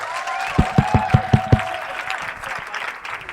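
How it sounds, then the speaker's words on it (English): A crowd at an Ignite Cardiff talk event applauds with scattered claps and a few loud, evenly spaced claps near the start, fading into general background noise. "make some huge amount of noise for the Ignite Cardiff team"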